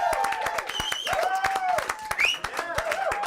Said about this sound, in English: Ladies and gentlemen, round of applause for Steve the Forest.